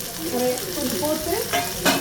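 Masala, onion and green chilli sautéing in a pan for a South Indian fish curry, a steady close sizzle with stirring scrapes throughout and a couple of brighter crackling bursts near the end.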